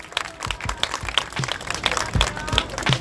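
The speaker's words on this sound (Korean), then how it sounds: "큰 박수 부탁드립니다" A smaller audience at a public progress-report event claps to welcome a speaker from a civic organization, with separate individual hand claps audible in an uneven, fairly close patter that stays moderately loud.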